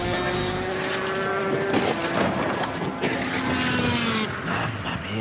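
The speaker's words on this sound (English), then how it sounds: "the actual speed of a low side crash, where you take a slide, looks like this" Motorcycle sliding across a racetrack in a low-side crash: a continuous loud scraping roar with tonal whine and broadband grinding, steady for several seconds before easing slightly near the end.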